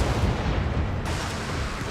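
Ordnance strike in a video game: a dense, loud rumble of overlapping explosions and artillery-like blasts that rolls on continuously at close range, with a brief crackling surge partway through.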